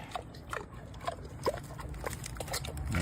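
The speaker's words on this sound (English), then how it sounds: "that's a nice pig enjoying a pineapple" A pig eats a pineapple, giving soft snuffling grunts and scattered wet crunching bites over a steady low background, with no one speaking.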